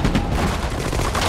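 Battle gunfire in the Sudden Strike 4 video game, dense overlapping rifle and machine-gun bursts with heavy low booms, loud and continuous with no gaps.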